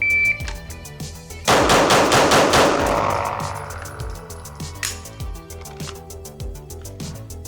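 Pistol shots fired at an indoor range: a rapid string of loud, sharp cracks echoing off the walls, followed by more spaced single shots with ringing reverb.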